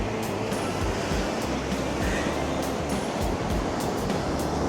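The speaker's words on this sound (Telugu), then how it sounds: "అమ్మో నీళ్ళు ఎట్లా వస్తున్నాయి" Ocean waves surge and wash continuously on the shore at Salalah, Oman, a loud, close, unbroken roar with gusts of wind noise on the microphone and no talk.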